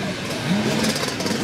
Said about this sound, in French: Allez, on va voir les motos. Écoute le bruit.